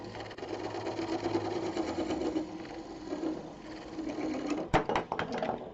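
Recycled plastic blank spinning on a wood lathe at around 1,000 rpm while a tenon is cut, giving a steady continuous whir with a sharp tool catch near the end.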